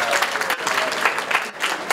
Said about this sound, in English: can we give the ladies a round of applause as well